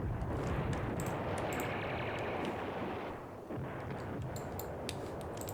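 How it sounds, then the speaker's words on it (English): Artillery bombardment in the wargame Command Ops 2: dense, rumbling booms and crackling blasts roll on continuously, with a few sharper pops standing out near the end. "Bombardment's still going down in the town."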